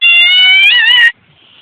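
A single cat lets out one loud, drawn-out meow of about a second at close range, with a slight wavering rise partway through, followed by near silence.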